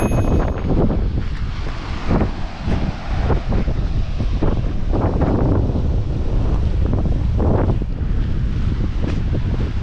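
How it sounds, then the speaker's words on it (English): Ocean waves wash in at Gara Rock Beach on the UK coast, a loud continuous roar of surf under heavy wind buffeting the microphone, with surges swelling and fading throughout and no voices. "listen to these waves and just relax"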